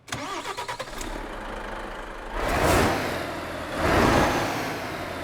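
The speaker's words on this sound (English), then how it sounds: "let's go ahead and get this truck started up and get on the road" The engine of a Renault T truck in Euro Truck Simulator 2 cranks with a rapid starter chatter, catches, and settles into a low idle, with two swelling revs following. It sounds close and steady, and no one speaks.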